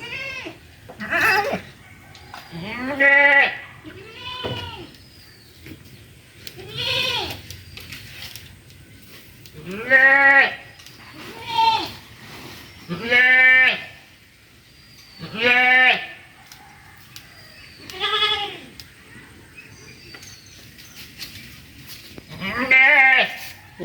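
Goats bleat repeatedly at a rural homestead, a dozen loud, wavering calls spaced a second or two apart, close by, with soft background voices between them.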